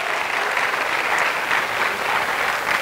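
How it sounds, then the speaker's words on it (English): Audience applause at a hypnosis show with high school participants, a steady, full burst of clapping from a crowd that holds evenly throughout. "A round of applause."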